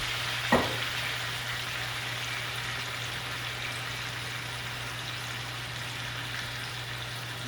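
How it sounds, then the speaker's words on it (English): White Zinfandel wine poured into a hot pan of sizzling chicken for coq au vin, giving a sharp burst at the pour that settles into a steady, even frying hiss over a low hum. "I'm going to pour this wine right in there."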